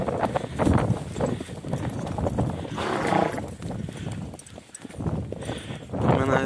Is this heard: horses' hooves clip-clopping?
yes